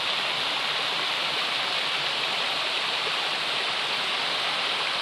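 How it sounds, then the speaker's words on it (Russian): A waterfall drops some 8 to 10 metres from a cliff inside a rock grotto, sending up a steady, loud, dense roar of pouring and splashing water that never lets up. "Водопад находится вот в таком гроте, и вода срывается со скалы метров с 8, с 10."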